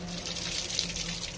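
Tap water runs steadily and splashes into a sink as fresh carrots with soil on them are washed, a close, continuous rush with no voices.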